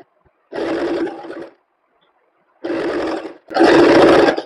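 A sewing machine stitching a tucked belt blouse runs in three close bursts of rapid whirring, about a second each, separated by short silent pauses, with no talking.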